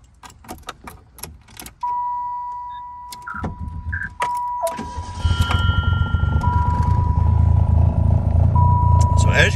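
A Yugo car being started, with keys jangling and clicks before the engine turns over and settles into a steady, rumbling idle, heard up close with a warning chime ringing and someone speaking.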